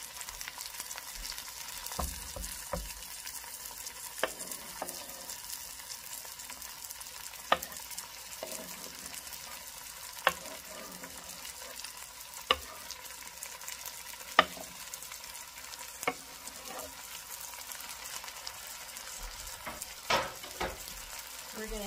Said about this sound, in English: We're going to give that a nice stir.